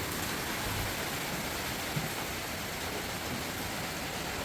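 Steady broadband hiss of rain falling, continuous and even throughout with no voices, like a heavy downpour close by.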